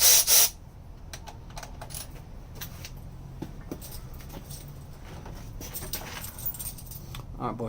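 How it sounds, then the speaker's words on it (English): A 17mm deep socket is pulled from a set of tools while working on Hasport EGK4 motor mounts for a K24 swap in an Integra, giving a loud metallic jangle at the start, then scattered faint clinks and rummaging. "let's go grab our 17mm deep socket"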